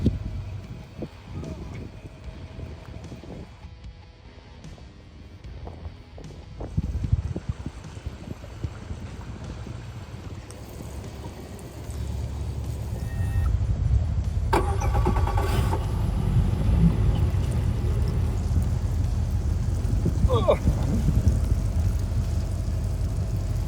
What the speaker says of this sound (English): Getting some idle time on it right now.